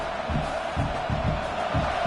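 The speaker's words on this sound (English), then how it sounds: "this home crowd is fired up and ready to make a difference today" A home crowd at an Oregon vs LSU college football game roars in a dense, continuous stadium wash, with rhythmic low chanting pulses beneath the steady cheering and no clear voices on top.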